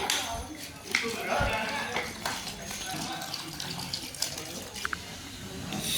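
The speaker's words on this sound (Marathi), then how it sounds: "आता पाणी टाकून चालू करून देतो व्यवस्थित" Water being poured into a mixture while preparing homemade sulphur solution for farm use, a continuous splashing flow with a few clinks, close and steady over the whole stretch.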